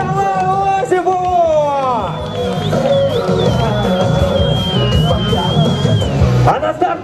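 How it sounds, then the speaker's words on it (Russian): Spectators at a strongman competition during a town day celebration in Sergach cheer and shout for a competitor, a loud continuous crowd roar with whoops and an announcer's voice over it. "Аплодисменты Николаю Осипову!"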